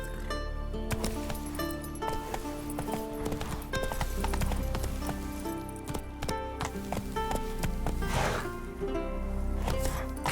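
Roach, the horse from The Witcher 3, gallops in a steady rapid clip-clop of hooves that runs throughout. A game score plays underneath, and a short whinny comes through near the middle.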